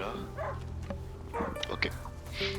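A dog barks in a French outdoor video game with muddy paths, several sharp yips and whimpers over a steady background hum, with someone talking around them.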